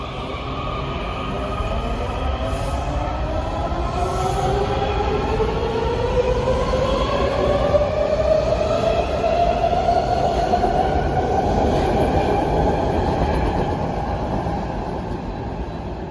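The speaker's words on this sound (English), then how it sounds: "There's a train I rode on. Is heading off." A Washington Metro train departs a station and rolls steadily away, its motor whine rising in pitch as it accelerates, with continuous rail rumble and faint wheel squeal.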